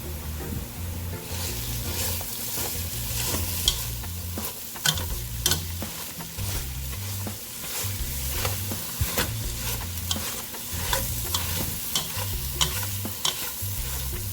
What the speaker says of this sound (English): I'm going to get a potato masher, I believe, to make this a little faster.